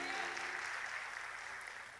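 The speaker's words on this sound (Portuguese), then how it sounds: "Você pode aplaudir esse grupo de música maravilhoso." A church congregation applauds a music group during an evening service, a soft, continuous patter of many hands clapping that fades slightly toward the end, with faint voices underneath.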